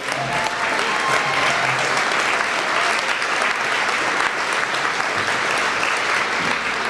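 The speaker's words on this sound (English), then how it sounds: "If you could please stand and accept our applause for your hard work." Dense, steady applause fills a hall at a BBB integrity awards event as the audience claps for the staff, loud and continuous for the whole stretch with no talk on top.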